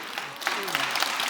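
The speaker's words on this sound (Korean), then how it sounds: "왜 치는 거예요, 박수는?" A burst of applause at a Korean church youth service, steady clapping from a group of people, with a voice speaking faintly underneath.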